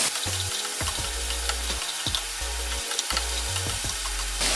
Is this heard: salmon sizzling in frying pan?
yes